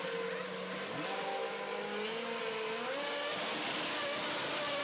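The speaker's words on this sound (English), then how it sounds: "And away goes Rene Binder, spins up his rear tyres." A Formula V8 3.5 race car, the Lotus entry at Jerez, pulls away from its pit box with rear tyres spinning, engine note rising loudly and steadily through gearshifts in a continuous close roar.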